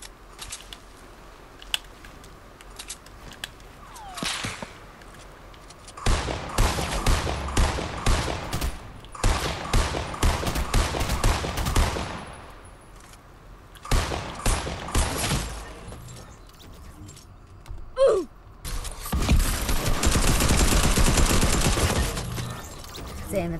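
Bursts of rapid automatic gunfire in a shooter video game, loud and close, come in several long volleys separated by brief quieter gaps with faint mechanical clicks.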